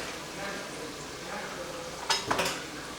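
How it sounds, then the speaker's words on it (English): A fork whisks water and cornstarch together in a small bowl: a soft continuous swishing, then a short burst of quick clinking taps against the dish near the end, in a quiet kitchen. "I'm gonna get a fork here though and kind of whisk mine together real quick."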